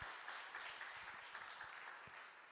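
A church congregation gives the choir a round of applause during a Sunday service, a faint, even patter of many hands clapping at a distance.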